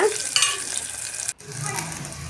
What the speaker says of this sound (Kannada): ನಿಮ್ಗೆ ಯಾವ ಈರುಳ್ಳಿ ಸಿಗುತ್ತೋ ಅದನ್ನೇ ಹಾಕಿ ಅದು ಸ್ವಲ್ಪ ಚೆನ್ನಾಗಿ ಫ್ರೈ ಮಾಡಿ